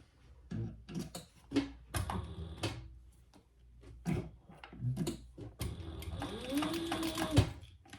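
A sewing machine top-stitches the side panel of a handbag in short stop-start bursts, close rhythmic needle thumps with pauses and small handling knocks between runs.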